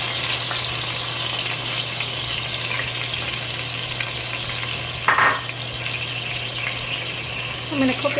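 Seasoning fries in hot oil in a pot for a Guyanese pumpkin curry, a steady loud sizzle with a couple of brief clatters from stirring and no speech.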